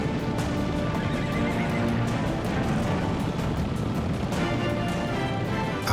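Wild mustang horses neigh and whinny repeatedly up close, loud calls over a busy background of hoof clip-clops and movement.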